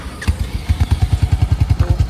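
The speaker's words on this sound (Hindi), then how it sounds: "तो ये इसका एग्जॉस्ट है एंड ये नेकेड साउंड है।" Royal Enfield Hunter 350 motorcycle idling close to its exhaust, a loud, steady thumping pulse of single-cylinder beats with no talk over it.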